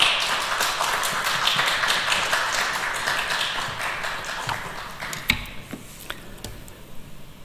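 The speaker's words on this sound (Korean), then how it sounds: "목사님 나오실 때 그동안 평안하셨는지요? 건강하십시오라는 마음을 담아서 우리 박수로 환영하면 좋겠습니다" A church congregation at a Korean Sunday worship service at Yeongju Church claps to welcome the senior pastor, with a dense burst of applause that gradually thins out into scattered, fading claps.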